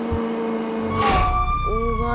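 A wailing police siren in a driving video game rises and sweeps in pitch over a steady engine hum, with a voice talking underneath.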